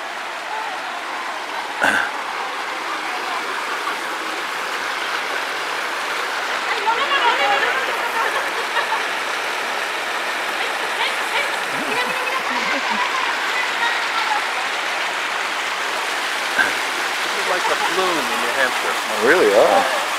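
Stream of water flowing steadily along a long walkway in Parque Arví near Medellín, a soft continuous wash with occasional splashes, heard under people talking nearby.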